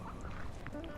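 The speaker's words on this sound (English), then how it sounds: "I woke the ducks up." Ducks, woken from sleep, let out a few short quacks over steady outdoor background noise.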